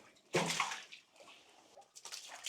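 Water splashing and sloshing as mud is rinsed off a horse's coat, a sudden loud gush followed by softer trickling and a second burst of pouring, close by.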